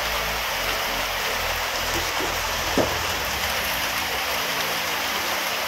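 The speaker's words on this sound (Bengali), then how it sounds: "আর এই গরম গরম করতে করতে বৃষ্টি চলে আসলো, হঠাৎ মেঘ করে কালো করে।" A sudden rain shower falls after dark clouds gather, making a steady, even wash of hiss with a brief louder patter near the middle, and no talk.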